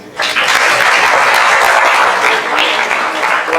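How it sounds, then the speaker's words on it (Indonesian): Students at a university guest lecture on bearing installation and maintenance break into loud, sustained applause, a dense close wash of clapping that starts sharply and holds steady. "Tepuk tangan dulu dong."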